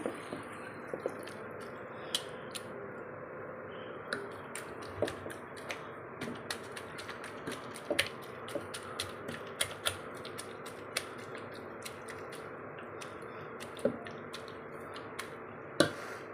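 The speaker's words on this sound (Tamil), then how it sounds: "இப்போ நான் வந்து இந்த கீரையை வந்து உங்களுக்கு நான் கடைஞ்சி காமிக்கிறேன்" Cooked moringa leaves being mashed with a hand churner, a steady run of soft wet squishing and tapping clicks with sharper knocks now and then, close by and with no talking.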